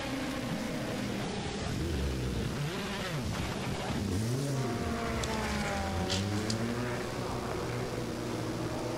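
A Le Mans prototype race car, the leading 38 car at the 2017 24 Hours of Le Mans, accelerates out of the pits and down pit road, its engine whining and rising in pitch, fairly faint beneath crowd and track ambience.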